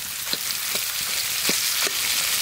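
Onion, garlic, green chilli and prawn paste sizzle steadily in hot oil for a village-style taro dish, a dense continuous hiss with a few soft stirring taps and no voices.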